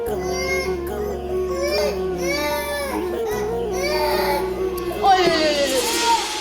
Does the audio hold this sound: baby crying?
yes